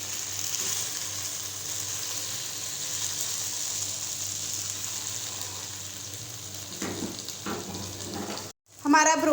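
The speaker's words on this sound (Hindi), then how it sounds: "हम दूसरी साइड को भी 5 मिनट पकाएंगे" Dam broast chicken sizzles steadily in a pan as one side finishes cooking, with some stirring and rustling near the end and a brief drop where the sizzle cuts out.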